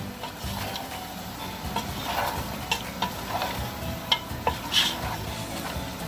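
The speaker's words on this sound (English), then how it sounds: "now I'm gonna give it a good stir" A spoon stirs spice powder into a pot of Indian-style ribs curry, giving a steady close-up scraping and shuffling with light sizzling underneath and a few sharper knocks against the pan.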